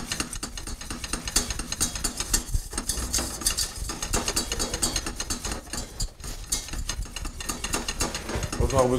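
A spoon scrapes and knocks in rhythmic strokes, stirring a cooking mixture in a pan over heat to dry it out. The sound is close and continuous, with a steady ratcheting texture throughout.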